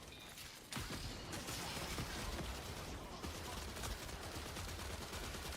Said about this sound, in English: They were shooting something in there.